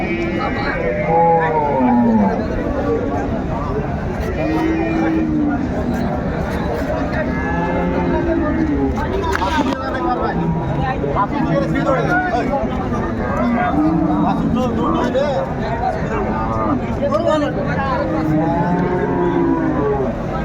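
Cows and calves lowing at a busy village cattle market, repeated moos near and far over constant crowd chatter, with people talking close by throughout.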